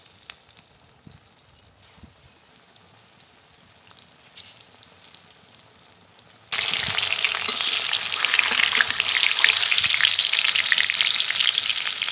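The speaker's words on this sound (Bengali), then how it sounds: "বড়া খুব ভালো করে ভেজে নিয়েছি" Ripe pointed gourd fritters frying in hot white oil: a soft, steady sizzle for the first half, then a sudden, much louder and denser crackling hiss that carries on to the end.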